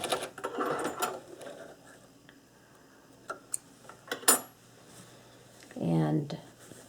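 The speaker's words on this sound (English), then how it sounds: "sew right over the elastic, right up into the edge, but no further" A sewing machine runs across a surgical scrub cap and over its elastic in short whirring runs with clicks between them, while a person talks throughout.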